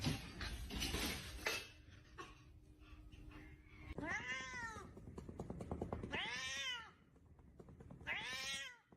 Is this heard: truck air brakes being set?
no